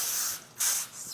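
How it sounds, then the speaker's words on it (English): Cooking spray hisses onto aluminum foil in two short close bursts, a brief pause between them and a fainter trailing puff, with no talking over it. "Spray the top of my foil"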